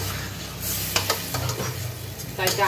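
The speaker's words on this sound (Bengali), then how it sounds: "তাই ডালটাকে এখন আমি একটু কষিয়ে নিচ্ছি।" Lentils (dal) being sautéed in a pan in a home kitchen, giving a soft sizzle with a few scraping stir strokes, moderately near, over a low steady hum.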